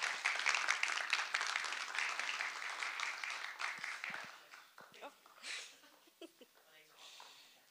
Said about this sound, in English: So if we can give them a round of applause while they come up on stage